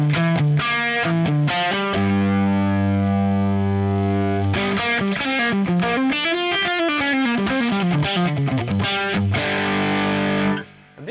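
A heavily distorted electric guitar plays sustained chords, then a bending, sliding riff, thick and buzzing through a Marshall amp and cab, loud and continuous.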